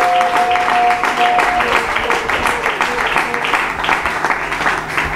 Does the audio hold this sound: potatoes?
no